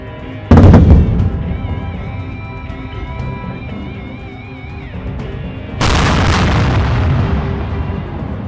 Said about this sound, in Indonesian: Menembakkan 5 peluru artileri berat ke sejumlah lokasi di Provinsi Pursat